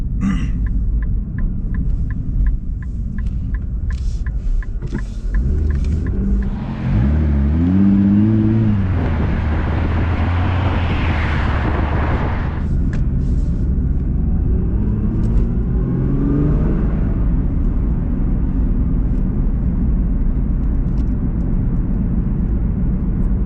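Sustained low engine rumble as a 2020 Nissan GT-R accelerates, pitch climbing in a smooth sweep then easing off, steady and close throughout.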